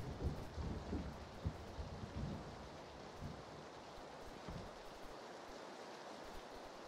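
Rain and thunder in the battle royale game PUBG: steady, dense rainfall with low rumbling thunder swells early on, heard alone without voices over it.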